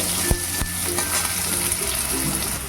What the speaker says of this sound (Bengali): আলুগুলোকে একটু ভেজে নেব